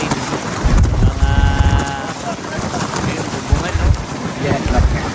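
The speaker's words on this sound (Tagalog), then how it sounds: "Lakas ng hangin. Bumulong ang hangin." Strong storm wind buffets the microphone in heavy gusts at Manila Bay, a steady roar with brief talk in between.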